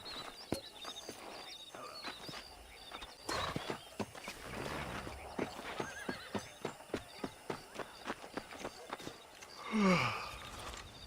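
A horse's hooves clip-clop in a steady walking rhythm in the video game Red Dead Redemption, ending with a loud whinny near the close.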